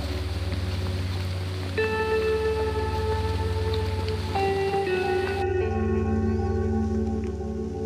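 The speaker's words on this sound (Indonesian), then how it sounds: "Tantangan semakin bertambah dengan turunnya hujan." Heavy rain falls on the Alang Alang Sewu hiking trail up Mount Sindoro, a continuous dense hiss with a low steady hum and a few sustained tonal whines layered over it.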